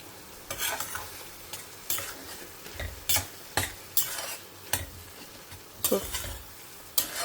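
Tomatoes with salt sauté in a pan, a soft continuous sizzle broken by rhythmic spatula strokes that scrape and tap the pan roughly every half second, close and clear with no talking.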